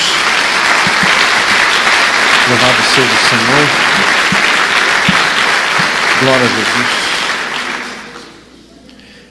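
A church congregation claps loudly and steadily for Jesus through most of the stretch, fading out at the end, while a preacher's voice speaks over the applause.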